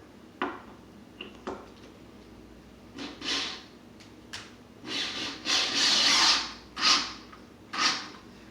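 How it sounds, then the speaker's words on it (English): A screw is driven into a wooden shelf board in a woodworking shop: scattered rubbing and scraping rises into a series of louder, grinding bursts near the end, close and without talk. "put one of the lower screws in to get it started"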